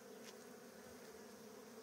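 A steady, faint buzzing of bees hums continuously on a flowering plant, several insects droning close together without pause.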